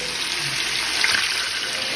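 Water pours steadily into a cooking pot in a home kitchen, a constant close hiss and splash that runs unbroken through the whole clip without any talk.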